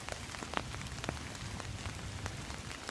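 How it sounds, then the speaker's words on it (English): Rain falling at a riverside on a fall morning, a steady soft patter with scattered sharper drops hitting a nearby surface such as an umbrella, faint and continuous, no talk. "Under my umbrella. It's raining."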